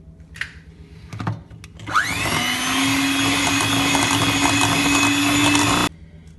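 An electric mixer beats eggs into marble butter cake batter, starting after a few clicks and knocks and then whirring as a loud, steady motor drone for about four seconds before stopping abruptly.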